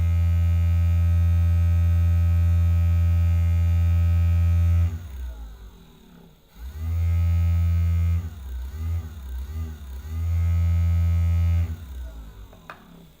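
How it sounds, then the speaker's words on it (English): Homemade generator built from a 12V DC motor with four magnets, running with a loud steady low hum that cuts out abruptly twice and restarts, the drone wavering as the connection shifts. "the motor runs more smoothly and consistently"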